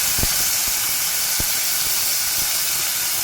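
Garlic, fennel seeds and black pepper sizzle in hot oil, a steady bright hiss with a few soft pops and crackles scattered through it, close and continuous with no talking.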